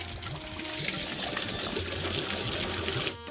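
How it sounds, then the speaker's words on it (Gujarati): Water rushes out of a tank filled and carried by tractor, a loud continuous gushing flow that cuts off abruptly just before the end. "અત્યારે અહીંયા પાણી ખાલી થાય છે"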